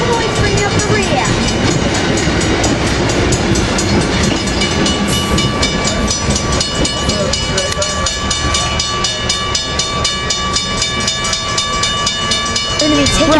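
An Amtrak train led by an F59PHI locomotive, number 460, rolls past on the Surf Line, a loud continuous roar of engine and wheels with rhythmic clatter and steady rumble throughout.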